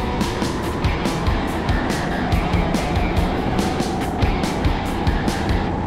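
Racing karts in an endurance race roar through a corner, a dense continuous engine drone with repeated sharp passes and surging bursts, loud and close throughout.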